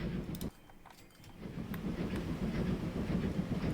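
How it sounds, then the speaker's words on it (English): A log train rolls along in the Transport Fever 2 game, a quiet rumble with faint rhythmic clicks of wheels on track that drops away briefly, then returns and grows steadier. "Oh, it's the log train."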